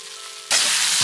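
Ginger garlic paste hitting hot oil in a pan while cooking filling for veg spring rolls, a sudden loud sizzle that starts halfway and continues as a steady close hiss.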